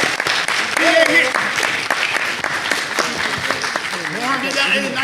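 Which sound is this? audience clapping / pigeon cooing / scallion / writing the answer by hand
audience clapping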